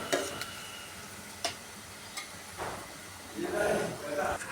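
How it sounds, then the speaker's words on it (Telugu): Sliced onions frying in oil in a pan, a low sizzle broken by light clicks and the scrape of stirring, swelling into a louder hiss near the end. "ఆనియన్స్ ఫ్రై అయ్యే వరకు కొంచెం టైం పడుతుందండి"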